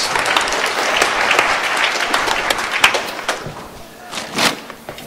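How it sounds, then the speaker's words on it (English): A church congregation applauds during a sermon. The clapping is dense and steady for several seconds, with a few louder thumps and claps near the end as it trails off. "Ah, round of applause."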